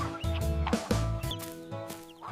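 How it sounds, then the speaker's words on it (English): A cartoon chicken clucks in loud, tonal bursts that repeat through the clip over a musical backing. "Chicken, oh chicken, are you there, my feathery friend?"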